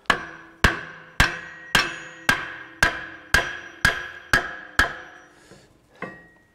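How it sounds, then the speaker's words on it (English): Something is hammered tight into place while getting ready for a six-tonne delivery: about nine sharp, evenly spaced hammer blows ring out with metallic decay, then a pause and one softer final strike. "hammering that tight in there."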